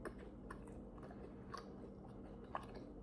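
A protein bar with a coating, cookie filling and sprinkles, made to taste like an ice cream cone, is chewed close by. Several sharp crunches stand out over soft, steady chewing, with one loud bite near the end.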